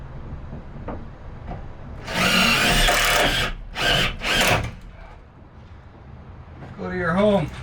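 Power drill driving screws into wood while a van is framed, with several loud whirring bursts of varying length close by, separated by pauses, and a voice talking near the end.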